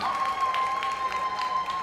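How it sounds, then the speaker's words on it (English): Audience applause fills a hall at a performing arts awards ceremony after a singer's performance, a steady wash of clapping with a faint sustained tone running underneath. "Another round of applause for Shana K. Wright"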